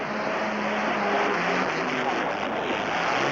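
A tractor-pull tractor engine straining hard, a loud, continuous broadband roar that holds steady for the whole stretch, with a faint rough drone beneath it.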